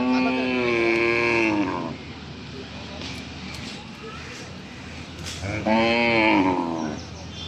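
Cattle at an Eid cattle market moo in two long, close, loud calls, one at the start and one near the end, with a quieter stretch of crowd and market noise between them.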